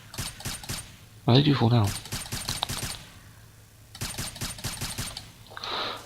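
Rapid bursts of automatic gunfire at a shooting range in the tactical shooter Ground Branch, crisp repeated shots in clusters separated by short gaps, with someone briefly talking between bursts.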